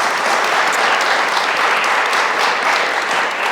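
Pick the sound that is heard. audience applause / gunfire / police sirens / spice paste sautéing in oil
audience applause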